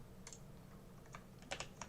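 Computer keyboard keys are pressed in a few light, close clicks, a short cluster of taps near the end over a soft background hiss, with no talking.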